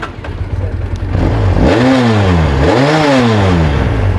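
A Ducati Panigale motorcycle with a 400cc fuel-injected engine idles loudly up close, then revs twice in quick succession, the pitch sweeping up and falling back each time before settling into a steady idle.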